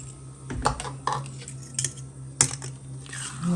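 Coconut milk from a mature coconut being stirred into rice in a bowl for Thai mango sticky rice, heard as scattered clinks and scrapes of a utensil against the bowl, close and moderately loud, with no talking.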